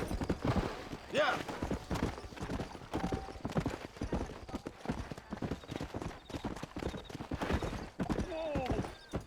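Horse hooves clip-clop steadily during a ride in the Western video game Red Dead Redemption, under character dialogue and a music score.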